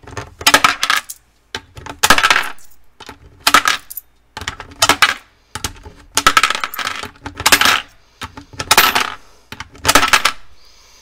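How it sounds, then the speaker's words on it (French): Small coins of loose change are counted and dropped in about nine separate clinking bursts, each a quick rattle of metal pieces landing together. The bursts are close and fairly loud, with short silent gaps between them. "on va prendre la toute petite monnaie"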